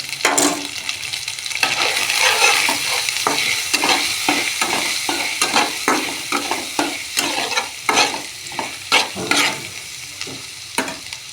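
Spice masala with a little sugar and turmeric fries in a pan, sizzling steadily while a spoon scrapes and stirs in a rapid series of sharp, close strokes, with no talk.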